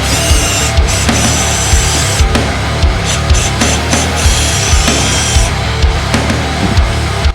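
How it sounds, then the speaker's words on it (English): Drilling holes in a plastic panel to mount an ECU on a Can-Am Maverick X3, with rapid rough grinding bursts and short pauses between them, loud and close, no voices. "use the template to drill some holes to mount the ECU"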